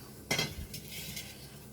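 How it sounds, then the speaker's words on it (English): Roasted ingredients tipped into a mortar and pestle, a single sharp metallic clink followed by faint scraping and light taps, quiet and close. "And also this I am taking it to the mortar and pestle."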